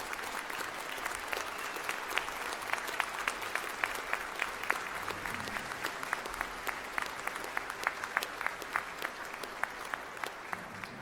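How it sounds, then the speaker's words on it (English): Steady applause from a graduation ceremony audience, heard from a distance and fairly faint, with sharp individual claps standing out through the whole stretch. "Round of applause."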